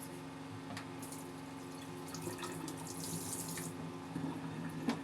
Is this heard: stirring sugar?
no